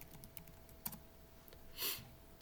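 Computer keyboard typing, a few scattered soft key clicks followed by a brief louder clattering burst, close and quiet with no talking.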